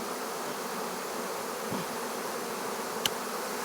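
Honey bees swarm on limbs being pruned from a tree, a steady diffuse buzzing hum that fills the scene without pause, with a brief sharp click near the end.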